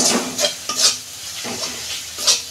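Spice paste with green chilli, chilli powder and ginger is stirred and fried in a pan, giving a steady close sizzle broken by several short scraping strokes of the spoon against the pan.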